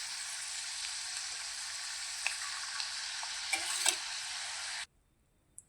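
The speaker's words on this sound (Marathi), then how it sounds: "तर ते ह्याच्यामध्ये आपण शेंगदाणे फ्राय करून घेऊया।" Peanuts fry in hot oil for a fasting-day khichdi, a bright steady sizzle with a few faint clicks of a spoon against the pan, cutting off abruptly into near silence.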